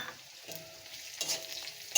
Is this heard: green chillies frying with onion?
yes